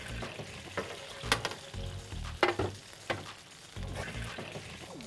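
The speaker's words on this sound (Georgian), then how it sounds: "დაველოდები ბატკნის ნახევარ შეწვას" Lamb pieces frying in a pan, a steady crackling sizzle broken by several sharp bursts and stirring clatters, close and fairly loud with no talking.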